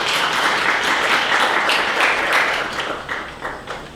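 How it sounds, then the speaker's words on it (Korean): Audience applause at a forum opening a new education hall fills the room with steady, dense clapping that fades toward the end, with no talk over it. "다시 한번 박수 부탁드리겠습니다."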